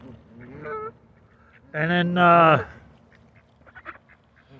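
Ducks and geese being fed in Aiken, South Carolina give a short honk, then a loud, sustained burst of nasal honking and quacking close by, with a few softer calls after and a brief voice speaking early on.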